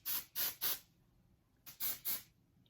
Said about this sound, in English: I will take a section and spray underneath